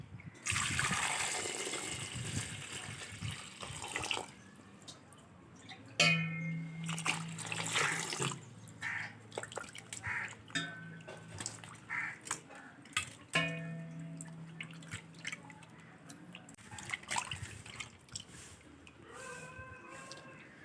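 Water trickles and splashes while potatoes are washed by hand, with intermittent running and splattering bursts, faint and close, broken by brief pauses and handling noises.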